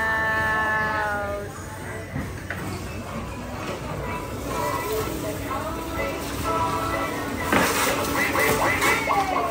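Ducks quack repeatedly amid a noisy outdoor crowd, with people talking over the calls.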